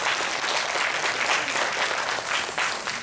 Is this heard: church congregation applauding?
yes